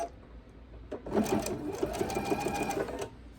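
A sewing machine runs steadily while stitching binding onto a quilt, its rapid mechanical needle chatter starting after a brief pause and continuing close and clear for a few seconds, with no talking.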